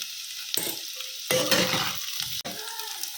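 Cut potatoes fry in ghee with cumin in a kadhai, a loud continuous sizzle broken by a few stirring scrapes, close and without talk.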